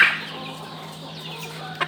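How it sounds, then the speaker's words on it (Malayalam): A Black Mille ornamental chicken gives a short, faint cluck nearby on a poultry farm over a steady low hum, with a small sharper sound at the very end. "ഇത് ബ്ലാക്ക് മില്ലി ഇനത്തിൽപ്പെട്ട അലങ്കാര കോഴി."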